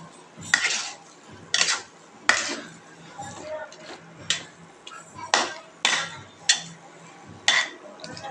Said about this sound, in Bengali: তরকারিটা মিক্স করে সুন্দর করে মিক্স করে নিচ্ছি